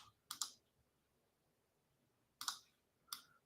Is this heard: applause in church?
no